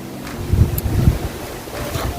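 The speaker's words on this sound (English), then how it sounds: "Out here kind of windy" Wind gusts buffet the microphone outdoors at a Jamaican carrot farm, a rough low rumble that swells and eases over a couple of seconds, with no talking.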